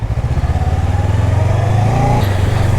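A big motorcycle engine runs close by with a throbbing, pulsing idle that rises slightly in pitch as it revs a little, loud and alone.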